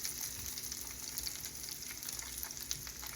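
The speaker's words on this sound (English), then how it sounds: "Just lay them right in the oil." Pierogies sizzle and fry in hot oil in a pan, a steady close crackling hiss with dense spitting bubbles throughout, no voices.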